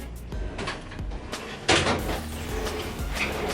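Ball bearing drawer on a Harbor Freight Yukon 46-inch, nine-drawer tool box sliding open, with a rolling rumble, clicky knocks and a sharper clack partway through, heard close up.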